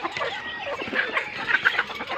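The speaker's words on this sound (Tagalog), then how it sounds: "Ayan ang mga manok. May mga sisiw pa." Chickens and chicks on a small farm, with soft clucks and thin chick peeps scattered through a short, fairly close burst.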